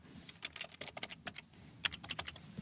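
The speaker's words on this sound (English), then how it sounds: "all you have to do is type, hit Tab, type, and hit Tab" Rapid keystrokes on a computer keyboard while entering table data, a quick irregular patter of close clicks with a couple of brief pauses, no voices.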